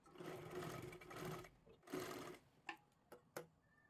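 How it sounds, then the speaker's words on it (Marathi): A sewing machine stitches fabric in short bursts, a close, quiet whirring that stops and starts, followed by a few sharp clicks. "आता इथे शिलाई मारायची आहे"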